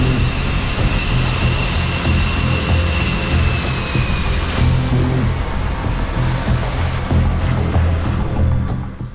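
Fighter jets, F-35C Lightning and F/A-18 Super Hornet, launching from an aircraft carrier deck: a loud, continuous jet roar with a steady low rumble and a high whine. It holds throughout, with no talk.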